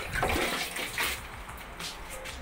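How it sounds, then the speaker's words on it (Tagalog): Water pours steadily into a container used for growing water spinach (kangkong), a close, continuous splashing stream with no talk. "Ngayon, lalagyan na po natin siya ng tubig."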